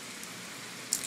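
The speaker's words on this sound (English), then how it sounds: "it's the sun, but it's still raining." Steady soft rain falling on an outdoor surface, a faint continuous hiss with a couple of brief drip-like ticks near the end, fairly quiet and alone.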